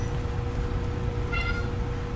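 A cat gives a single short meow partway through, set against a steady background hum.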